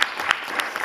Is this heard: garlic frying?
no